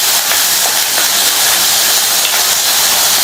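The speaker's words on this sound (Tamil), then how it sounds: "இப்ப எல்லாத்தையும் நல்லா வதக்கி விட்டுக்கலாம்." Onion, garlic, green chillies and dried chillies sizzle while being sautéed for chutney, a loud, steady, close hiss with no break.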